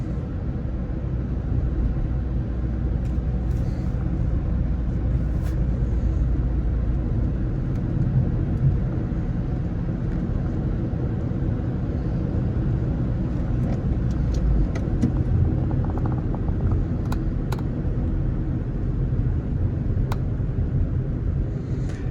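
A stock seventh-generation Honda Civic with a manual gearbox is driven at night, giving a steady, close engine and road rumble with occasional light knocks from a bouncy ride. The rumble is continuous and there is no talking.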